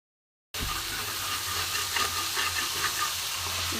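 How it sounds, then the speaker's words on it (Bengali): Chili chicken frying over high flame, a steady loud sizzle and hiss of oil starting abruptly after a moment of silence, with faint stirring scrapes close by. "এটা কিন্তু হাই ফ্লেমে ভাজতে হবে, যেহেতু আমি লবণ দিয়ে ফেলেছি বন্ধুরা।"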